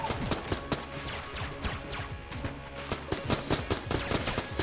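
Rapid gunfire from a weapon in the game Enter the Gungeon rattles in dense bursts of sharp shots, overlapping with impact crashes over a steady game soundtrack, loud and continuous with no speech.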